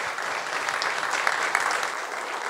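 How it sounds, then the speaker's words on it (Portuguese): A church congregation applauds during a morning service, producing a bright, continuous wash of clapping that holds at an even level throughout, with no speech over it. "Vamos aplaudir o Senhor"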